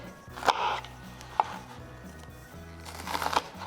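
A knife chops a slippery onion on a cutting board, a few sharp, separate cuts spaced irregularly, close and fairly loud with no talking.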